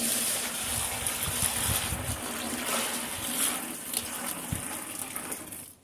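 Liquid pours steadily into a basin holding 11 litres of water while making liquid soap, a continuous close gushing splash running throughout with no talk.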